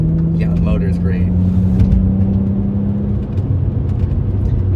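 An Audi S4 engine drones steadily from inside the car while driving on a populated road, a smooth sustained hum with a faint whine, under a voice speaking in the cabin.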